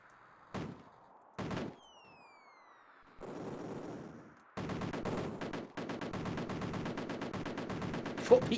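Grenade explosion and gunfire in an Amiga video game: two sharp isolated shots, a short whistling fall and rumbling blast, then a long stretch of rapid, evenly spaced machine-gun fire.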